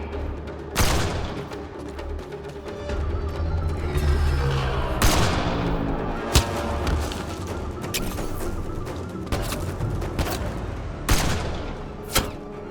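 Video-game combat in Mass Effect: Andromeda on the planet Kadara: loud, sharp gunshots ring out irregularly over a rumbling backdrop, with a few heavy booming blasts. No one speaks.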